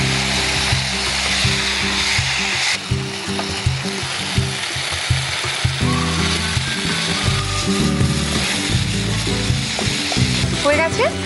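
Food fries in a pan on an induction cooktop, a steady loud sizzle and crackle running throughout with occasional stirring clatter, while people talk faintly over it.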